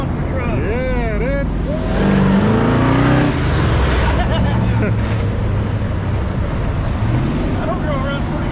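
A monster truck engine with a cut exhaust roars and revs up and down close by at a car show in Moab, with strong wind buffeting and people talking over it.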